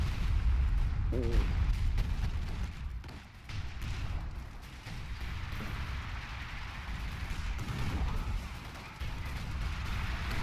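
Artillery barrages in a WWII strategy game battle for Caen, deep booming explosions and rumbling fire rolling continuously, heavy low-end thuds throughout with a brief spoken exclamation over it.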